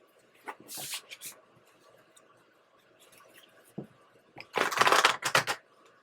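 Two bursts of cards being shuffled, a short riffle early on and a longer, louder flurry later, with quiet pauses between.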